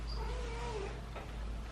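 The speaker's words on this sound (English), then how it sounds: "Kitten!" A kitten gives a single short, thin meow over a low background hum, fairly faint and alone.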